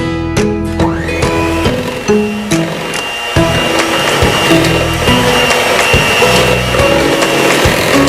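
An electric mixer runs at low speed through cake batter with powdered sugar for a chocolate cake, giving a loud, steady motor whine with a shift in pitch near the start and a rough churning rattle underneath. Nobody speaks.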